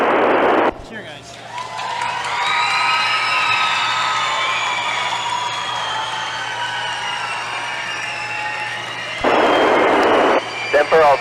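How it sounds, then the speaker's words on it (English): Students cheer and shout loudly after a school's radio contact with the International Space Station, a sustained crowd roar with whistles over a constant hum, framed by louder bursts at the start and end. "Cheer, guys."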